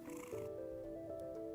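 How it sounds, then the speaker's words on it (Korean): A cat purrs in a soft, continuous low rumble with a faint tonal hum, quiet and close, with no other sounds around it. "그르렁. 고양이의 목울림 소리로 보통 평온하고 기분이 좋을 때 내는 소리."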